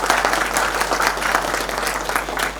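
An audience at an art exhibition inauguration and award ceremony claps loudly to welcome the education and culture minister, a dense continuous wash of hands that holds steady from start to finish with a low hum beneath.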